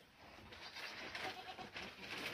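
A goat bleats on a goat farm in Kankebong, Rimbik, giving a few rough, wavering calls close by over a noisy outdoor background.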